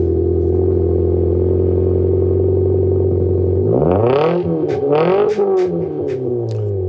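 Mitsubishi Lancer with a big rear wing, its exhaust droning at a steady idle before rising into sharp revs and blips, loud and close with no talk.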